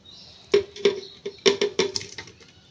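Green chutney ingredients, chilies among them, are dropped one by one into a blender jar, making about ten light, close taps and clinks in an irregular rhythm against a quiet background.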